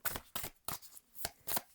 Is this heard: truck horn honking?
no